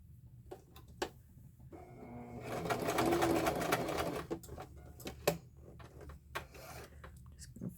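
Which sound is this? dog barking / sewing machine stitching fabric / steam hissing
sewing machine stitching fabric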